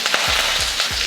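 Curry leaves crackle in hot oil with popped mustard seeds and urad dal in a kadai: a loud, dense sizzle marked by three quick stirring strokes, close up and without talk.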